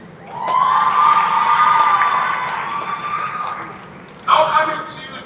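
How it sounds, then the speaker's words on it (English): Graduation ceremony audience at a school breaking into loud, sustained cheering and shouting from a large crowd, including young voices, fading somewhat before a brief fresh burst near the end. "A round of applause, please."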